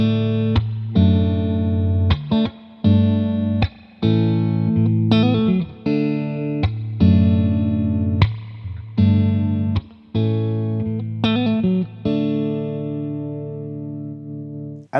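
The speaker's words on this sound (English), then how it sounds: "just a lot of reverb and a really nice, chimey, bright tone" Electric guitar played clean through heavy reverb with a chimey, bright tone: strummed chords and ringing single notes that sustain and fade into a long reverberant tail, loud and alone.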